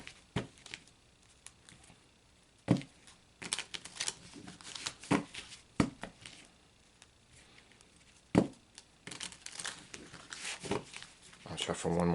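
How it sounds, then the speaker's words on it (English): Tarot oracle cards are shuffled close up in quick riffling bursts and sharp slaps scattered between quieter pauses, with a soft rustle of handling throughout. "I'll shuffle one more time and then I'll go ahead and stop."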